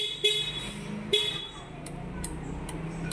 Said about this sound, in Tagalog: Ay, may busina